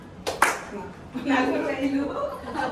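A couple of sharp hand claps ring out during an action game of clap, shoulder, head, nose at a kitty party, then a voice carries on speaking or chanting.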